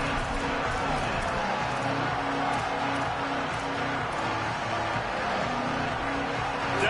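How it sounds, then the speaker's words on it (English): Steady, dense crowd roar from a college football video game, NCAA 27, swelling on a third-down defensive stand, heard under an announcer's ongoing commentary. "Decibels rising as the crowd gets behind this defense on 3rd down."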